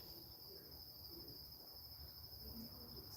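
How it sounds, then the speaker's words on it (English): Night insects chirp steadily in an outdoor garden where radish seedlings are sprouting, a continuous high-pitched drone of crickets holding through the whole stretch with scattered soft lower calls beneath, no voices present. "So many insects."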